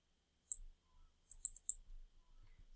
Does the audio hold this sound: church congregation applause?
no